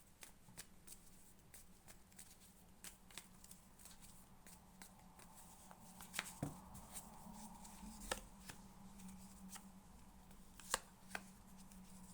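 Cards are shuffled steadily, with soft riffling patter and sharp clicks spaced throughout, quiet and close over a low steady hum.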